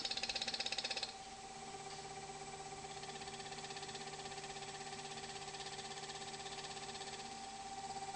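A wood lathe fitted with a Robert Sorby eccentric chuck turns a blank, giving a steady mechanical whir and hum throughout. A brighter, harsher scraping of the cut sounds during the opening second and then settles back.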